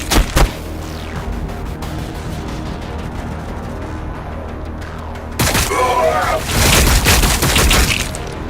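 Gunfire rattles through a battle in the video game Warhammer 40k Battle Sector. Sharp cracks and booms open the clip, a steady din of distant shooting follows, and then comes a louder, denser fusillade of rapid fire. Voices are heard during the fighting.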